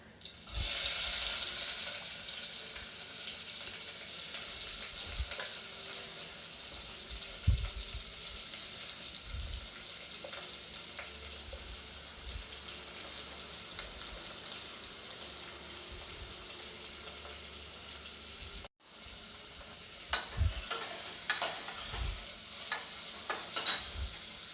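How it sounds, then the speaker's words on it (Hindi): Chopped onion frying in hot oil with a bay leaf while a spoon stirs it, cooked for a lentil and bottle-gourd dish; a steady close sizzle runs throughout with scraping stir strokes and a brief break near the end. "प्याज को मैं हल्का गोल्डन ब्राउन होने तक भूनूंगी मैं।"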